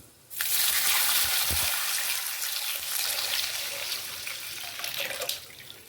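Water pours steadily into a pot, a loud continuous rushing splash that starts abruptly and runs without pause before tapering slightly near the end.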